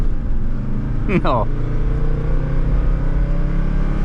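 A 1981 Mercedes 300D diesel with about a million kilometres pulls away from a stop, its low rattly engine rising and falling through the gears, loud and close, with a short spoken word over it.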